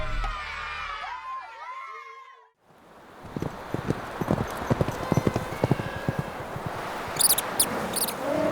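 A horse's hooves clip-clopping: rhythmic clopping steps close by, following a stretch of whinny-like animal calls and a brief near-silence, with crowd-like background noise behind.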